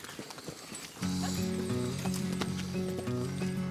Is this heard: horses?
yes